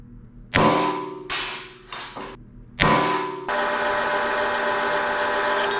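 Metalworking on chrome moly plate to make weld washers for a V8-into-Corvair swap: four loud ringing hammer-like clangs on metal, each decaying, followed by a steady close whirring machine drone.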